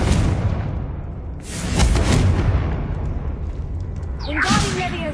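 A Confringo spell blast from the Hogwarts Legacy video game on PS5 booms out as a loud burst with a whooshing tail, then another whoosh with a rising streak near the end. Voiced spell incantations run alongside.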